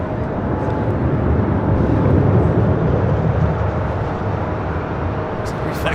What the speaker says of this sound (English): This is Spirit Airlines 709 taking off to Detroit on an